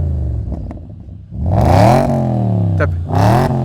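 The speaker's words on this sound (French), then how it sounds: "Tu veux accélérer un petit coup, juste un petit coup?" A car engine revs hard twice in quick succession, rising in pitch with each press of the accelerator after a steady idle, loud and close, with no talk over it.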